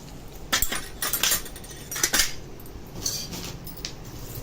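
Prasadam is mixed with chili and salt in a pot, giving several metallic spoon scrapes and clinks against the vessel in irregular bursts, close and moderately loud.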